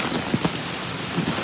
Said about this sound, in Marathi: पाऊस तर खूप वाढला. कितना जोर का बारिश आ रहा है.